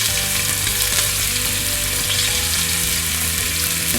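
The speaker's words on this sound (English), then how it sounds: "We're going to sear this meat now, and then I'll season the other side." Chuck steak sears in hot oil in a pressure cooker, a loud continuous sizzle and crackle filling the space without pause, close and dense with small spitting pops throughout.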